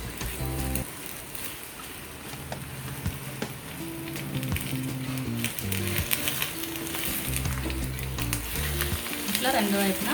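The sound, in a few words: egg frying in a pan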